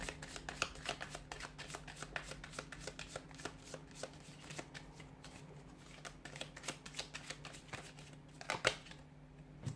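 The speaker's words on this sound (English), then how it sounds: "give the cards a shuffle here" Tarot cards riffle and snap in quick repeated bursts for several seconds, close and fairly quiet, with a faint steady hum underneath.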